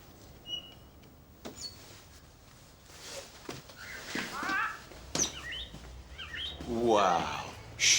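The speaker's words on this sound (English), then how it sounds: "These birds are delicate and sensitive." Birds chirp in scattered, quick bursts that grow busier toward the end, mixed with a few soft knocks and rustles.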